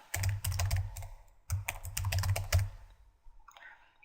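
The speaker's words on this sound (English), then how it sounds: "then we type in the name for that class" Typing on a computer keyboard, two quick close bursts of rapid key clicks separated by a short pause, then a few scattered lighter taps.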